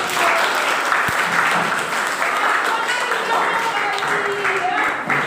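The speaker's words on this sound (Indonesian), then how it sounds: "Kalian masih konsentrasi tepuk tangan." A classroom of pupils clapping their hands together during a teaching session, steady dense clapping throughout with some voices mixed in.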